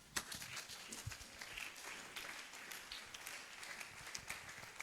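A church congregation applauds to praise the Lord during a service, with steady, fairly quiet clapping from many hands that carries on for about five seconds.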